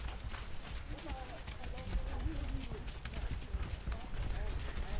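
Horse hooves clip-clopping in a steady rhythm while the horse is ridden over jumps, close and moderately loud, with a rider's voice talking over the hoofbeats.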